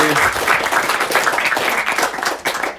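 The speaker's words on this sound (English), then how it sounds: "Please give him a clap." A reception crowd gives a loud, continuous round of clapping for a keyboard player after his performance, many hands applauding together before it begins to thin near the end.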